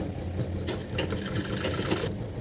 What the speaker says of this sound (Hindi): सीधे कपड़े करते इस तरीके से हम इस पर एक सिलाई लगा लेंगे